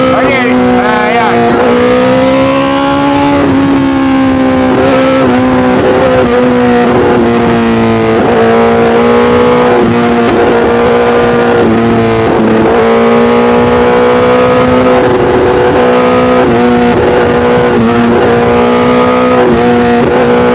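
A BMW S1000RR sport motorcycle riding through traffic, its engine note droning loud and steady with rising and falling pitch as the rider shifts and accelerates, with a voice talking over it.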